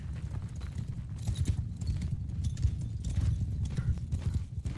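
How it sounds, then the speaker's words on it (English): Cavalry horses in Mount & Blade II: Bannerlord mill in place with steady hoof clip-clop, snorting and an occasional whinny, forming a dense, continuous rumble with no speech. "I like how you can hear the rumble of cavalry, but they're not moving"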